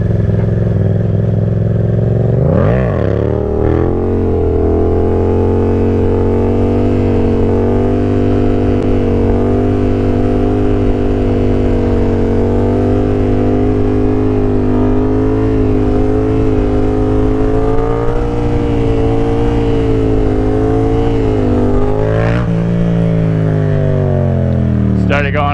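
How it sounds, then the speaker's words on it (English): A Yamaha FZ-07 motorcycle engine held at high revs through a long wheelie, a loud close droning roar with a throttle blip near the start and shifting pitch near the end. "I'm thinking right now we go for the longest wheelie I've ever done on the FZ."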